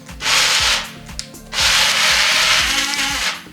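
Ninja Blast blender pulsing peanuts with oil, two loud whirring bursts with a gritty, churning rattle as the nuts tumble, separated by a brief pause.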